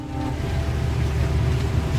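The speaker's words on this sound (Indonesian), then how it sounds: "Ya, suara kereta." Train rumbling past as a loud, steady low roar with broadband noise that holds evenly throughout, no voices.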